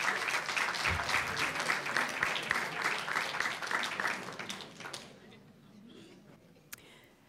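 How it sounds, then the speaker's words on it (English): A round of applause at a school board meeting honoring an incoming freshman and his family, dense steady clapping from the room for about five seconds, then fading out into quiet murmurs. "Let's give him a round of applause."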